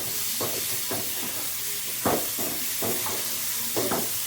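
Tomatoes sautéing in a pan, a steady hiss of frying broken by several scraping stirs at uneven intervals, close by, with no voices.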